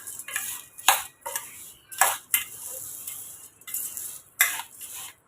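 Spice powder being stirred into a snack mixture in a bowl, giving a run of scraping, clinking strokes in irregular bursts, close and fairly quiet, with no talking.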